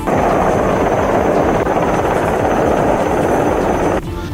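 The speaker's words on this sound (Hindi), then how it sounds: "थोड़ी ही देर में हेलीकॉप्टर समंदर में जहाज के पास मंडराता देखा।" A helicopter hovers over a ship at sea in strong winds during a rescue airlift, its rotor and engine a loud, close, unbroken roar that eases slightly just before the end.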